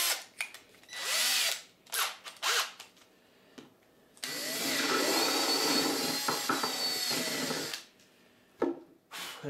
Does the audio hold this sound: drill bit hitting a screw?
yes